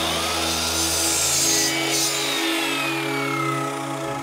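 Steady, continuous sawing through a recycled timber batten, a loud grinding buzz with a constant hum underneath throughout.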